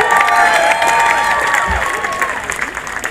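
A church congregation applauding, a dense wash of clapping with cheering and shouts from the crowd throughout, a voice briefly audible beneath the noise.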